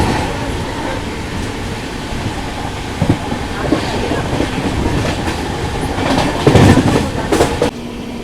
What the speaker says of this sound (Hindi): तो सामने से ट्रेन आ रही है दिल्ली सराय रोहिला से चलकर पठानकोट के बीच में चलने वाली धौलाधार एक्सप्रेस।